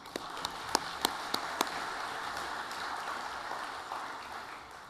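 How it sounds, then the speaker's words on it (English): Steady applause from an awards ceremony crowd fills the whole stretch, a dense even patter with a few louder individual claps standing out early on. "So round of applause for them, please."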